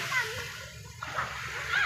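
Children swim and splash in a clear river, with continuous nearby water splashes and sloshing mixed with kids' voices calling out.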